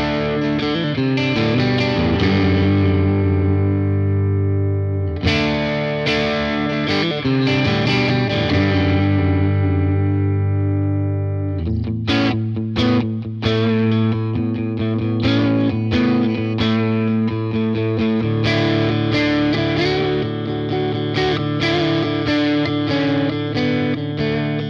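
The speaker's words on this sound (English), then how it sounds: "let's check out some more distorted tones. I'm gonna go back to the gain channel of the Bassbreaker 30R" A Fender Jimmy Page signature Telecaster plays through the gain channel of a Fender Bassbreaker 30R amp, loud, heavily distorted chords and riffs ringing with sustain, a brief pause around five seconds, then continued driven playing.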